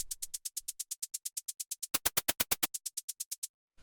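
White-noise hi-hat shaped by a bandpass filter with auto pan in an industrial techno pattern, fast steady ticks that turn fuller and louder midway before thinning again, heard alone.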